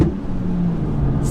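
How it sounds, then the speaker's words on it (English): Idling engine of a high-mileage Volkswagen Golf Edition 30 with a worn-out clutch, a steady low rumble with a faint tonal hum, close and continuous for a short moment without talk. "let me just demonstrate the clutch"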